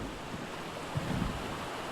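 A waterfall in ARK: Survival Evolved gives off a continuous broad rushing wash of water, steady and moderately loud with slight surges.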